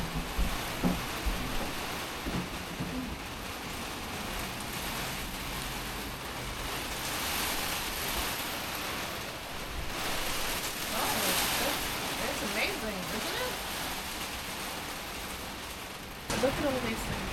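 Heavy rain drums steadily on a greenhouse roof in a downpour, a dense continuous hiss that swells and eases, with a person talking briefly near the start.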